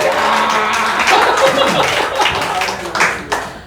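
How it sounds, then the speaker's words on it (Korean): A church congregation at a Sunday worship service claps together in a short, loud burst of applause, with talk and a few chuckles mixed in. "박수 한번 쳐봐라."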